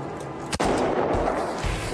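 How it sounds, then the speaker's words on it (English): A single sharp, loud Kalashnikov rifle shot cracks outdoors in the hills, followed by a broad rumbling echo and the continuing wash of background noise, with no speech. "I'm shooting the enemies in the hills. I've never done this before. It's a Kalashnikov,"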